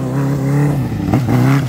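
A Honda Fan 600R motorcycle fitted with a Hornet engine revs hard during a wheelie, its loud, close engine note surging and dipping through quick throttle blips.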